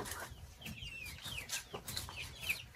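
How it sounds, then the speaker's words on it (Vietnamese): A flock of large farm chickens clucks repeatedly in a rural village yard, steady overlapping clucks and short calls close by with no talk. "Ôi, đàn gà này to rồi."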